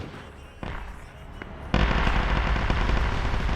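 Plasma weapons firing in a Warhammer 40K video game: a sharp crack, then a sudden loud, dense burst of crackling shots that carries on steadily to the end, with no talk.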